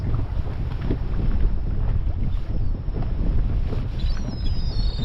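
Steady wind roaring across choppy sea off Poole, a broad rushing noise with faint slapping from a fishing boat's hull, no voices.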